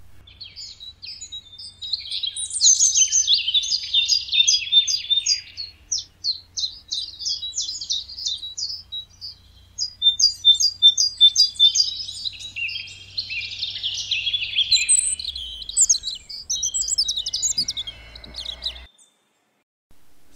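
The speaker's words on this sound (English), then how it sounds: "At this time of year, the male birds sing to attract a mate and to defend their territory." Male birds sing a dawn chorus in the New Forest in spring, with dense, overlapping high trills and chirps. Many birds sing steadily for about twenty seconds before the song cuts off.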